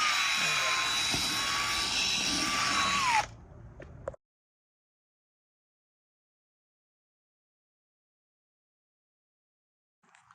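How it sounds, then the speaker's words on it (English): A power drill with an 800 grit sandpaper pad sands a car headlight, a loud, close whine that runs for about three seconds, drops to a lower buzz, then cuts off into silence. "we just did our very first layer with the 800 grit sandpaper"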